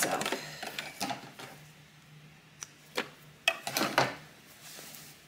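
A sewing machine stitching quilt binding at an angle runs in short, irregular bursts of rapid mechanical clatter separated by quiet pauses, close and fairly loud.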